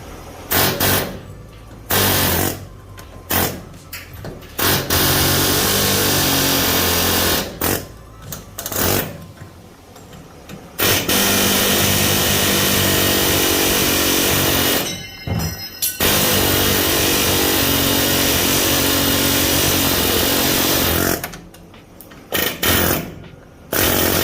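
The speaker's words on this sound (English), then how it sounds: "All right, then I'm gonna take my chisel," A pneumatic air hammer with a chisel chatters loudly in long sustained bursts on a 1973-1987 Chevy/GMC truck rear suspension, stopping and restarting several times with short quiet gaps between runs.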